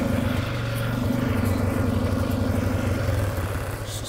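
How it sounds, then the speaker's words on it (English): An ATV four-wheeler engine runs steadily nearby on a farm, a throbbing mid-pitched idle with a rapid, even pulse that eases slightly toward the end. "I'm gonna be doing some four-wheeler riding."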